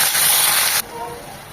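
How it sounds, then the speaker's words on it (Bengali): A loud, steady sizzle from ginger garlic paste dropped into hot oil with browned onions, hissing strongly for almost a second and then dropping to a softer fry. "এটাকে 1 মিনিট ভেজে নেব, যেন আদার ভাজা গন্ধটা চলে যায়।"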